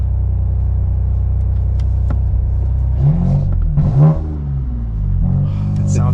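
A 2021 BMW M2 Competition with a manual gearbox, in Sport Plus with aids off, drones loudly from inside the cabin as its engine revs and pulls while driving, the pitch rising and dipping between gear changes.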